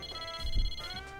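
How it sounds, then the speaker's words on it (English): A cell phone rings faintly in Persona 4 Arena Ultimax, a short electronic tone in a steady tonal pattern under a soft low thump. "My cell phone rings again."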